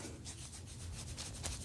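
A game disc is rubbed by hand: a close, continuous scratchy friction made of rapid repeated strokes, moderately quiet, with no speech.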